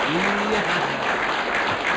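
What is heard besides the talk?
audience applause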